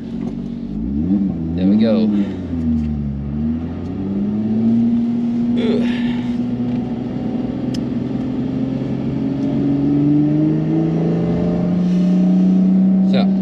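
A Lotus Evora S on the Nürburgring revs steadily, its engine note rising and falling then climbing in a long continuous pull, close and loud beneath someone talking over it.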